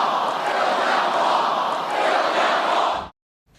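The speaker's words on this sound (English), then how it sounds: "The crowd was chanting, "Build that wall."" A large crowd at a Trump rally chants in unison, a loud, dense roar of many voices that holds steady for about three seconds and then cuts off abruptly.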